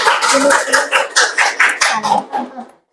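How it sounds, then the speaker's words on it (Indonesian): A classroom group claps together in short uneven bursts after finishing a presentation, the clapping mixed with chanting voices and fading out near the end. "kasih tepuk tangan untuk kelompok 1 atas presentasinya"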